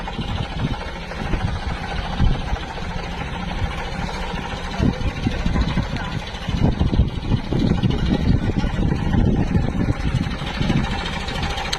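A village tractor's engine runs steadily at a field demonstration, a continuous loud low-pitched rumble with slight surges, close by and without talk.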